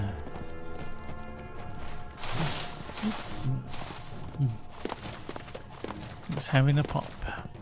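Horse hooves clip-clopping in the video game LOTRO, a steady walking gait under continuous game music with someone talking briefly over it.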